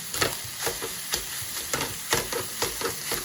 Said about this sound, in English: And just smash it through the mince like that.